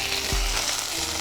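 Tomatoes tipped into golden fried onions in a hot pan while making pepper kuzhambu: a steady close sizzle of frying with a soft low thud as they land.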